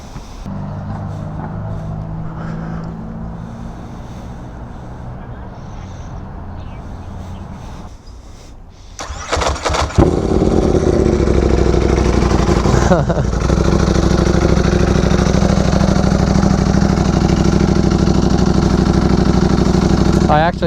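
A 2022 Ducati Panigale V4S motorcycle fires up and settles into a loud, throbbing idle after a quieter stretch with voices talking over background engine noise.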